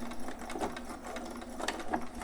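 Sewing machine back stitching while making a newborn romper, a steady close mechanical whir running through the whole short stretch with slight pulses as the stitch direction changes, no talking.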